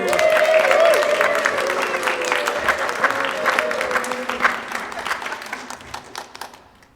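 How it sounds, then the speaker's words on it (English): A crowd at a big fish contest cheers and applauds in a steady wash of clapping that starts loud, with a brief whistle-like tone early on, and slowly fades toward the end. "The crowd cheers."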